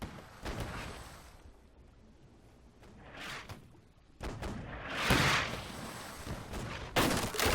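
Volleys of musket fire crackle from rowboats during a naval battle in the game Holdfast: Nations At War, several bursts at mixed distances with booming reports spread over a few seconds and no talk.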